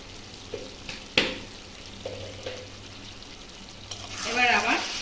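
Jackfruit curry sizzles in a pan as Kashmiri chilli powder and coriander powder are stirred in. Scattered scraping stirs lead up to a louder, hissing fry burst near the end, with a voice faintly present.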